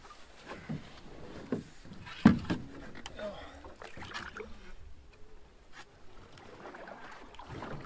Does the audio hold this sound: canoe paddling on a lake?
yes